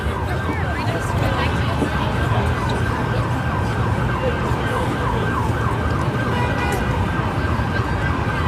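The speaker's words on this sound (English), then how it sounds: "We have an ambulance that is stuck in traffic here." An ambulance stuck in Manhattan traffic on a holiday night, its wailing siren rising and falling steadily over the constant roar of street traffic and engines, loud and close.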